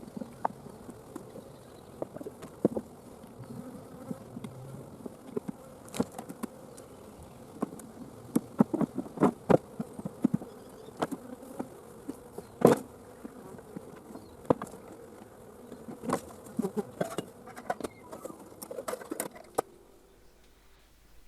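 Honey bees buzz steadily around a frame nuc hive being reassembled to catch field bees, a close, continuous drone with scattered louder passes near the listener throughout.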